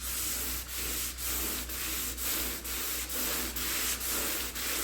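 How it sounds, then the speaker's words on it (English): Sandpaper rubs back and forth over sealer on the door of a '57 Bel Air in steady, close, loud strokes, about two each second, with nobody talking. "I want you to notice the sound sand and sealer makes until you break through that shiny shell"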